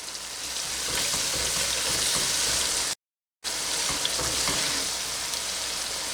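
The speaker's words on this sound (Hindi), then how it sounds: "इनको जो है 2 मिनट्स योगर्ट डाल के भून लेते हैं।" Fish curry masala fries with yogurt in a pan, giving a loud, steady hiss and crackle that fills the sound, broken only by a brief gap of silence before the sizzling picks up again.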